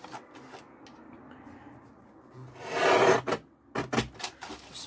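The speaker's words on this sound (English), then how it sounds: "So I'm just going to trim a fraction off this." Blade trimming a thin fraction off the edge of a paper triple fold booklet, a raspy cutting burst in the middle followed by several short, close scraping strokes in a quiet room.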